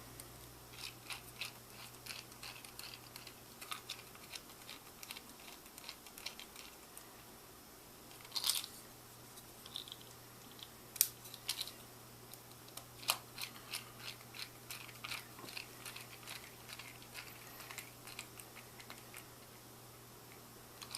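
Flange screws are driven by hand into wood while servos are mounted on a robot arm build, faint irregular ticks and creaks that grow into sharper clicks partway through, with no talk.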